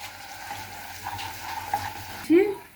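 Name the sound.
stirring and frying spice paste (masala) in a pan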